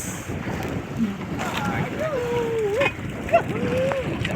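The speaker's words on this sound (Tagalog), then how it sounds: "hangin, malakas." Wind buffets the microphone in a constant rushing roar, with a voice speaking over it partway through.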